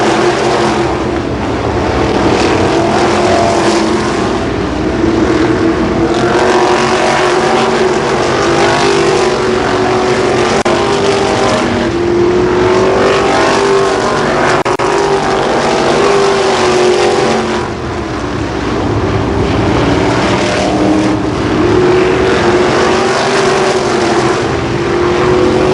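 Sprint cars race at Columbus Motor Speedway, a loud, continuous engine roar with rising and falling pitch as the pack circles the oval, never letting up.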